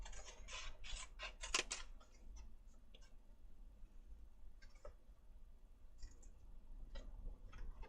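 Scissors snip through paper in a quick burst of crisp cuts, then sparser, quieter snips follow, close up in a quiet craft room.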